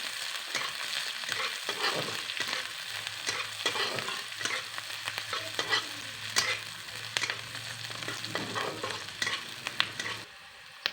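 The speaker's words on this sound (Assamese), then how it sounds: "এইখিনি 2 মিনিটমান ভাজিব লাগিব" Chopped onion and green chilli sizzle in hot oil in a wok, a continuous close crackle broken by frequent scraping stirs and brief louder spits over about eleven seconds.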